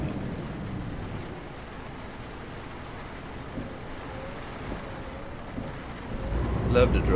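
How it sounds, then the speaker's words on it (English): Steady rain hisses inside the video game Euro Truck Simulator 2 while a truck drives at night, a soft continuous wash with low engine rumble beneath that swells slightly near the end. "And it's raining."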